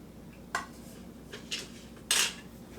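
Metal fork clinks sharply against a plate of pecan praline cake with brown sugar icing, three or four distinct close taps spaced irregularly over a quiet room.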